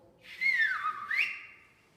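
A single shrill whistle note that wavers and slides off pitch, dipping then jumping upward, sounding sour and out of tune with no voices.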